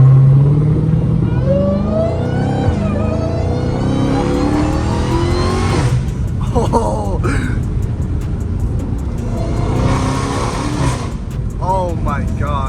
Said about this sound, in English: all it is a mid muffler and it sounds so good